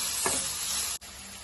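Tomatoes sauté in a pan with onion and ginger-garlic paste, a dense, close sizzle that briefly cuts out for an instant before continuing.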